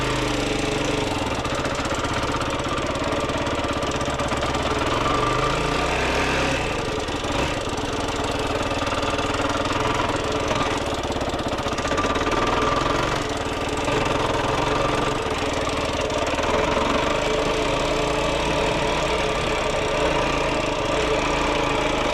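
Yamaha YFZ450R ATV engine running on warm-up laps around a rough backyard track, a loud, steady, continuous drone with slight rises and dips in revs throughout.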